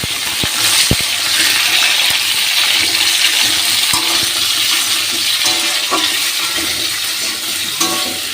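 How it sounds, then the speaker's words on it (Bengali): Crab, potato and eggplant fry in a pan with onions, giving a steady, close hiss of oil with a few sharp clinks and scrapes of a utensil against the pan, and no talking. "ভালো করে ভাজছি।"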